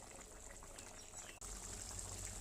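Water bubbling at a boil in a pan while koi fish curry cooks. A steady, close rush of liquid runs throughout, broken by a brief dip midway.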